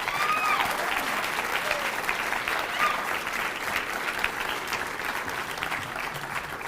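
Sustained applause from an audience at a 2022 student association inauguration ceremony, steady clapping of a sizable crowd throughout, with a few faint voices underneath.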